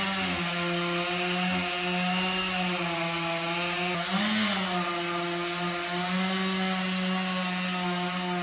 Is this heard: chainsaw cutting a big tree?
yes